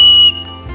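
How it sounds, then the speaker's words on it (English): A small keychain whistle from a waterproof first aid kit gives one loud, shrill, steady blast lasting about a third of a second, then cuts off, leaving quiet room tone. "Little keychain whistle"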